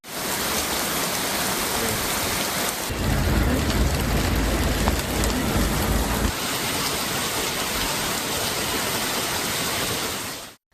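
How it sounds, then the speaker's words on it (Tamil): Heavy rain pours down around Ooty in the Nilgiris district, a dense, loud, continuous roar that swells heavier for a few seconds midway before settling again, with no voices. "நீலகிரி மாவட்டம் உதகை மற்றும் அதன் சுற்றுவட்டார பகுதிகளில் கனமழை பெய்தது."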